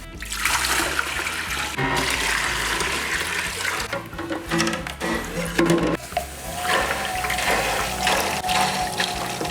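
Water runs and splashes into a sous vide container while black garlic cooks, a loud, continuous pour with gurgling surges and shifting splashes close by, no voices.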